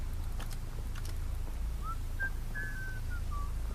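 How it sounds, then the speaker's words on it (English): A short whistled tune in a horror video game set in a gym, faint and somewhat distant, a few brief rising and falling notes over a low steady hum, with some soft taps earlier. "I swear, I just heard him whistling."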